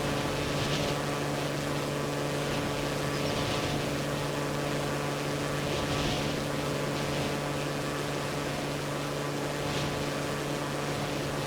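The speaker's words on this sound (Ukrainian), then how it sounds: "Далеко нам доведеться пливти по цьому човну." A boat engine in Far Cry 2 runs with a steady, loud drone while sailing on water, its low hum constant and continuous, with some wind and water wash mixed in.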